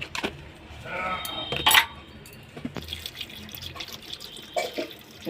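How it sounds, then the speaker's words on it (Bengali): Water poured into vegetables in a pressure cooker, a short splashing trickle followed by faint clinks and drips of utensils nearby. "সামান্য জল দিয়ে দিলাম।"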